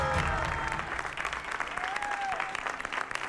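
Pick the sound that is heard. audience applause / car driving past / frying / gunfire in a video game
audience applause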